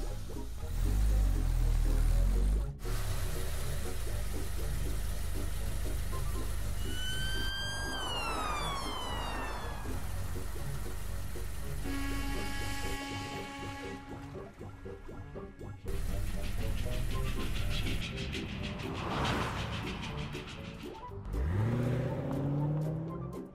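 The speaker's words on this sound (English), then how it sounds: "Family jump into the car and ride to the airport." A cartoon family car drives to the airport, with engine and road noise mixed with whooshing effects, chiming tones and bright musical cues that run throughout at a steady, fairly loud level.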